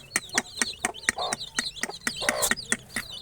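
Chickens cluck in a rapid, uneven series of sharp calls close by on a farm, with no talking underneath.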